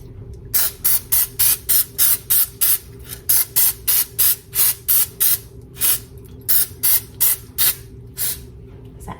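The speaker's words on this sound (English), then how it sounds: "I'm going to spray my pan lightly" A series of short, sharp bursts of cooking spray onto a brownie baking pan, about twenty quick hissing puffs in a steady rhythm, close and fairly loud with no talking.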